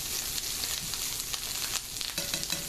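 Vegetables sizzling in a hot pan while being cooked, a steady crackling hiss with occasional stirring scrapes, close and continuous with no talk.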